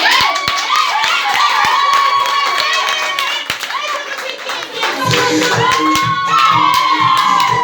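A lively gathering of women claps rhythmically while excited voices shout and cheer loudly over the beat, the clapping steady and close with chatter running throughout.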